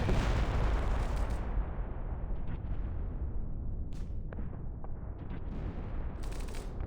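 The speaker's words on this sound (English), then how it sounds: "Gunshots? No, another bleeding war." Gunfire and artillery blasts from the video game Reverse 1999 rumble at a distance, starting with one heavy burst and followed by scattered booms and cracks over a low sustained roar.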